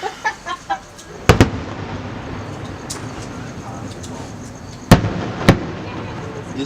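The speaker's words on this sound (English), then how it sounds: "This has got to be the longest fireworks show I've ever seen" A long fireworks show bursts in the distance, with sharp loud cracks and booms spaced irregularly over a constant crackling rumble and background noise.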